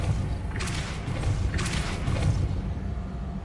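Two quick whooshing magical bursts from the Depulso spell in Hogwarts Legacy on PS5 sweep through over a steady low rumble, each a brief airy blast with no speech.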